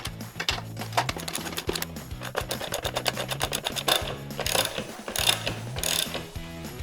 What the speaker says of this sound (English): I then secure it with a double ratchet method.